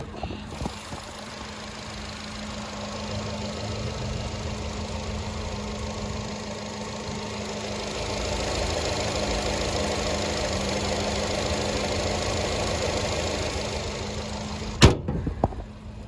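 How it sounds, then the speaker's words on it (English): A 2020 Nissan NV200 small utility van engine idles steadily with a low hum and faint mechanical whir, growing slightly louder midway, followed by a sharp clunk near the end. "That engine still purrs."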